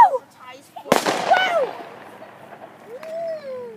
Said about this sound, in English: Wow, we were right. There were fireworks.